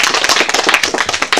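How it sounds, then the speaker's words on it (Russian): A dense burst of applause from a conference audience, many hands clapping loudly and close together for a short moment with no voices over it. "Аплодисменты вам!"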